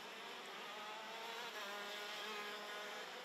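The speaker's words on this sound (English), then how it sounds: "Crossing the line then goes our race leader in Robin Glerham." KZ2 racing kart crossing the finish line at the Kerpen circuit, a steady high-pitched engine drone held at constant speed, heard faint and distant throughout.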